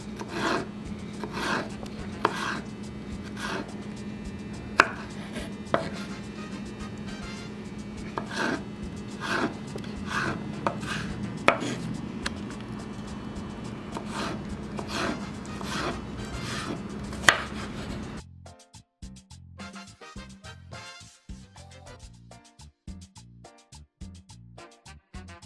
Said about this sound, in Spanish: ya tenemos cortada la papa, ahora la vamos a hacer así, en delgadito